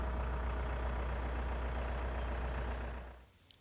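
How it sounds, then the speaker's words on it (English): Electric mini truck being pulled into a shop, a steady low rumbling drone that fades out after about three seconds, leaving faint clicks. "we get the truck pulled into the shop now"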